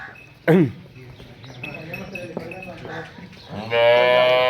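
A young female calf at a Pakistani dairy cattle sale among Cholistani Friesian cross cows gives a loud, close moo, then softer lowing, and another long moo rises at the end, with a voice and outdoor farm background.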